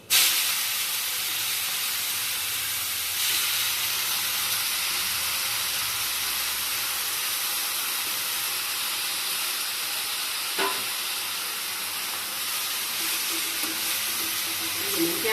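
Fenugreek leaves fry in oil in a pan until crisp, giving a loud, steady, hissing sizzle that runs unbroken throughout, with a couple of faint utensil taps late on and no talking.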